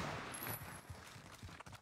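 AK rifle gunfire in a first-person shooter game, a quick burst of faint rapid shots with a fading rumble, heard alone at low level.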